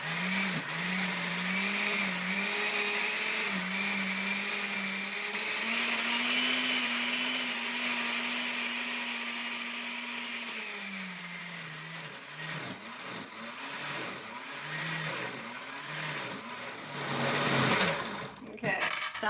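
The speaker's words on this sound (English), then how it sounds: "we're going to turn it back on" A blender whirs steadily as it purées cilantro pesto with coconut milk, a loud continuous motor drone with a shifting pitch, then slowing and stopping partway through, leaving quieter clatter and brief bumps toward the end.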